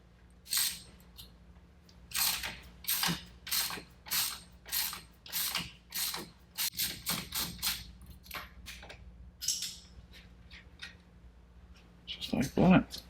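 A wrench ratchets while loosening a suspension nut held with a T40 bit during a JRZ RS Pro suspension install. About a dozen close, rhythmic clicking bursts come in steady strokes, then slow and stop, with a short clatter at the end.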